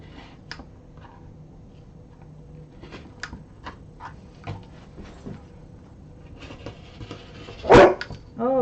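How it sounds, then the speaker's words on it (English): A pet dog barking indoors in a home workspace: scattered soft ticks and knocks, then one sharp, loud bark near the end followed by the start of another. "Sorry for the barking, guys."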